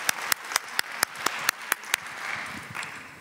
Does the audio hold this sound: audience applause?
yes